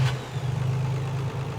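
Nissan Z32 VG engine idling steadily after engine flush was added to the oil, a close, constant low hum with a faint rise near the end, alone with no talk.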